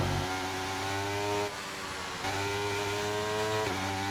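Formula 1 car engine in the F1 23 racing game, a loud sustained high-pitched whine that drops briefly as if lifting off, then climbs back to a steady scream.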